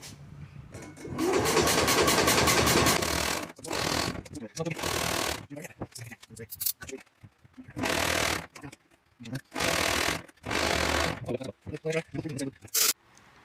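A 1961 IH Cub Cadet Model 70 garden tractor with a 7hp Kohler engine is cranked by its starter in repeated loud bursts, some long and some short, that catch and sputter. Pauses come between tries, and a voice talks in the gaps.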